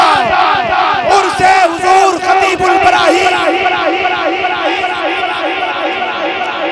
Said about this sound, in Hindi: जरा मोहब्बत से नारे तकबीर।